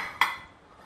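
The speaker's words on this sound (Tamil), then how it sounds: "அடித்தட்டு வச்சிடறேன், இலையோட வைக்கணும்." A metal idli steamer plate is set down into a steaming pot during kozhukkattai preparation, giving a single short clink with a quick ringing decay, close by and quiet.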